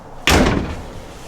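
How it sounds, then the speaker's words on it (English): A door in a vintage 1957 Liberty mobile home swings shut with a single loud, close slam that rings out and decays over about a second. "I'm going to shut the door for the noise."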